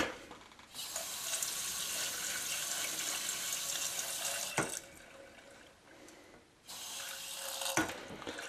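Water pours steadily from a faucet into a kitchen sink, a broad hiss that cuts off briefly twice before resuming.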